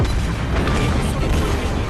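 Naval guns boom in World of Warships Blitz, a dense, continuous rumble of heavy cannon fire and explosions filling the whole stretch, loud and close with no spoken voice.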